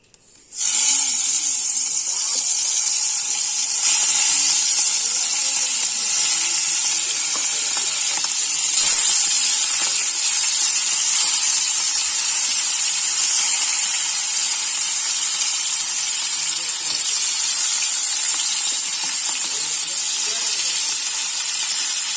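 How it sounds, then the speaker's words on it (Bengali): Hilsa fish frying in hot oil gives a loud, steady sizzle with a bright hiss that holds unbroken and close for the whole stretch after a brief start. "মাছগুলো ভেজে তুলে নেব।"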